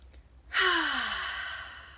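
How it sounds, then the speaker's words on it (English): A single deep breath, a long audible sigh-like exhale that starts abruptly after a short quiet pause and slowly fades, close and alone. "I want you to take deep breaths like this"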